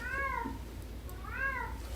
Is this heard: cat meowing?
yes